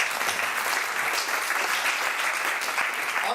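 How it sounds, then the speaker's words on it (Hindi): Audience clapping at an evening literary gathering, loud, dense and sustained for the full few seconds, with no talk over it. "तो बदर के लिए बहुत सारी तालियां।"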